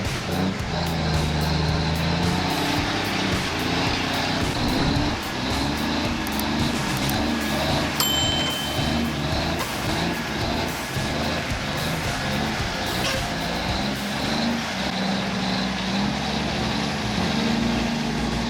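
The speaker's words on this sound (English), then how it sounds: "The deep rumble of the engine, the unbeatable strength, and the timeless durability." A Kenworth truck's heavy diesel engine rumbling steadily close by, a continuous deep drone with faint clanks and a brief high metallic tone partway through, with no talk.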